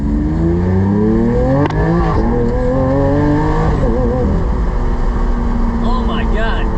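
A Lamborghini Aventador in Corsa mode revs hard as it accelerates, a loud, close engine roar whose pitch climbs and sweeps through gear changes, with people talking over it.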